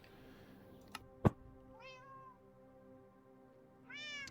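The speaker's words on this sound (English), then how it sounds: "Meow indeed." In the Minecraft FrankenCraft modpack, a cat meows twice in clear rising calls a couple of seconds apart, after a sharp click and a thump, with no speech.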